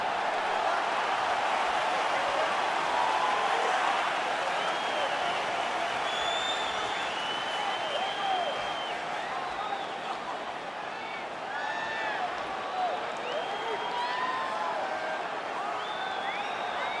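A sold-out arena crowd in the video game EA Sports UFC 4 sends up a broad, steady roar that fills the whole stretch, with an announcer's voice calling over the top throughout.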